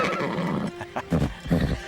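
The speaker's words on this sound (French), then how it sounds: "j'aurais besoin d'un cheval comme Storm pour m'aider" A horse neighs and whinnies in an animated series, with a short, loud, wavering cry followed by snorting breaths, up close and alone.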